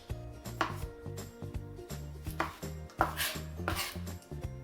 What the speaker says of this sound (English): So we have all our tomatoes cut, put them right in the bowl